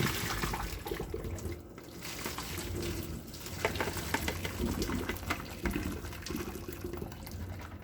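Boiled broccoli drained from a pot into a sink, water pouring and splashing steadily with a continuous rushing wash throughout, moderately close and without talk.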